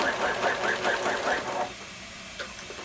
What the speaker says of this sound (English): you're going to sew all the way up to the top. And then do that back stitching again